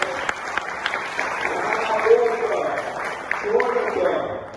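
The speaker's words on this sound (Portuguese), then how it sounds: "Só de palmas para o Leonardo, por favor." Audience at a software engineering talk show applauding a guest named Leonardo, moderate steady clapping with speech running over it throughout.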